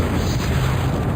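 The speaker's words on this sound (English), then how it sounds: "I'm going to demonstrate Locken's Fire Wave." The Locken's Fire Wave spell explodes in Total Annihilation: Kingdoms with a loud, steady, roaring blast of broadband rumble that holds evenly throughout.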